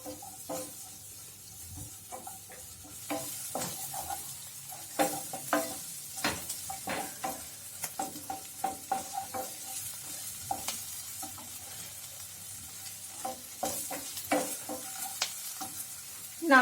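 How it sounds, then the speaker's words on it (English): Onions sauté in a pan with garlic and chili flakes, a steady low sizzle broken by frequent sharp scrapes and knocks of stirring, close and moderately loud, with no talk. "first of all add onions. Saute them for 1 minute."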